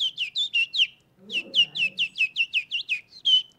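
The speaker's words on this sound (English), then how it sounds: "I think that's a robin redbreast." A robin redbreast sings a quick series of bright, high, whistled chirps in two bursts, close and clear, with a brief low rumble under the middle of the phrase.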